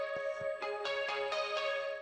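Dry indie rock electric guitar with its spring reverb muted, a few quiet plucked notes and chord strums over a steady sustained tone.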